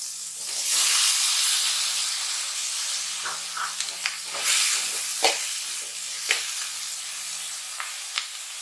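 Ridge gourd sautéing in a pan for a village-style chutney gives a strong, steady sizzling hiss, close up, with a few light scrapes and taps of a spoon stirring now and then, no voices.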